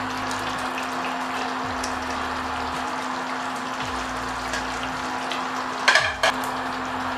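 Fried fish and meat dropped into a pot of stew for a Nigerian fish stew, a constant low sizzle and simmer with a short splash and clatter near the end.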